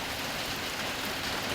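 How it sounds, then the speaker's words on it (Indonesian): Steady rain pours down, an even, dense hiss of drops on surfaces, close and continuous with no voices. "Udan, oh udan. Dari semalam hujan terus sampai sekarang."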